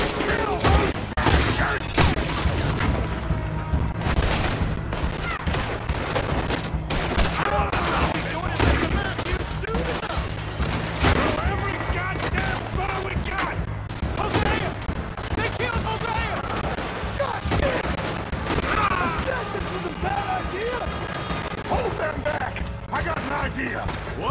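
Dense, continuous gunfire in Red Dead Redemption during a Lemoyne National Bank robbery shootout, with rapid overlapping shots and heavy volleys sustained throughout, alongside shouting voices and battle noise.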